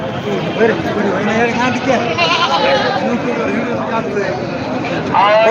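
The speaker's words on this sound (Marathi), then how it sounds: "समोर पाहू शकता कोटा जातीचं बकरं" A Kota breed goat bleats amid the busy din of a large goat market in Parbhani, with a continuous crowd murmur and nearby voices talking over the animal calls.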